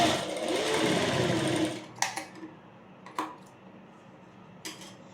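A sewing machine runs a fast, steady burst of stitching on jabla fabric for under two seconds, then stops, followed by a few sharp clicks and small handling knocks in a quiet room.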